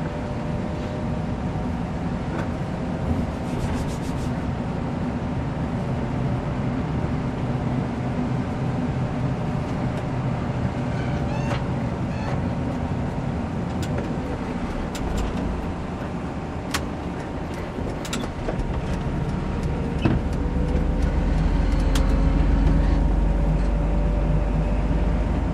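A car is driven during a driving lesson after an upshift, with a continuous low engine and road drone and steady tire noise that swells slightly near the end.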